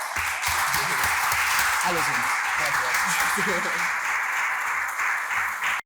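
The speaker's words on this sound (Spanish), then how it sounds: "querría un fuerte aplauso para Ignacio Yoli," Audience applause for a guest speaker at a talk on young people's emotional wellbeing after the pandemic: a steady, dense wash of clapping from a crowd that holds at an even level throughout, with some faint voices underneath.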